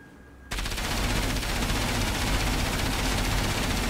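Loud automatic gunfire aimed at a sentry gun in the video game Enslaved: Odyssey to the West, bursting in after a brief quiet moment and rattling on without pause, with no voices.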